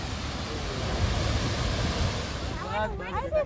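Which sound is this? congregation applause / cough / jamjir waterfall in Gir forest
jamjir waterfall in Gir forest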